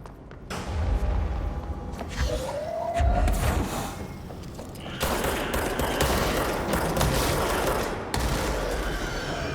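Explosions of enemies blowing up in the video game Control come as dense, loud, repeated bursts and thuds over a busy combat soundscape. The din stays continuous through the stretch, with no talk.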